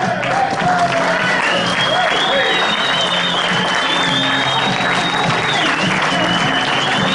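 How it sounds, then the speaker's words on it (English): A standing audience in St. Louis gives loud, sustained applause welcoming keynote speaker Tom Mower Sr., founder of Sisel, with steady crowd clapping and some shouts and cheers mixed in throughout. "Give him a round of applause."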